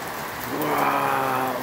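Heavy rainy-season rain pours down steadily in a brief, close, dense hiss that swells slightly midway, with no voices over it.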